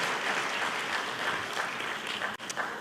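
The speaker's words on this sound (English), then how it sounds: "please join me in applauding David for his wonderful efforts" Steady applause from a conference audience at the Yerevan Dialogue international conference, continuous dense clapping throughout with a brief dip near the end.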